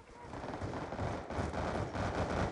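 Gunfire from a DSR sniper rifle and a pistol in the Black Ops II video game, a dense, fairly quiet stretch of continuous shots and battle noise.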